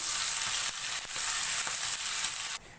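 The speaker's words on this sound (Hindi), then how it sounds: "अब हम इसके अंदर 1½ टेबल स्पून लहसुन अदरक का पेस्ट ऐड करेंगे, थोड़ा सा फ्राई करेंगे।" Garlic-ginger paste fries in a hot pan with a steady, close hiss that dips briefly twice and then cuts off near the end, no voices.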